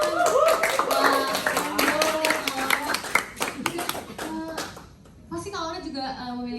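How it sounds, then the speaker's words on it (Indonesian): Audience at a student public-speaking presentation claps hands in a lively burst of individual claps mixed with voices, fading briefly before clapping and chatter resume. "dia boleh tepuk tangannya dong teman-teman."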